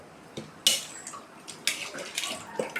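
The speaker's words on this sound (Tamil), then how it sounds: "புளியை வந்து நல்லா கரைச்சிக்கலாம்." Tamarind being dissolved in water by hand in a bowl for a Tamil dried-fish curry, heard as faint, close sloshing squishes and small clinks arriving in irregular bursts.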